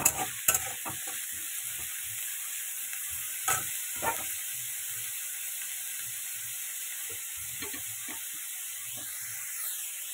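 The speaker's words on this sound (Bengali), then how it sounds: "এটাকে আজকে একটু ভালো করে ভাজা ভাজা করে নেবো।" Food fries and is stirred in a pan with whole chillies, a steady soft sizzle running throughout beneath scattered scraping and clinking of a spatula.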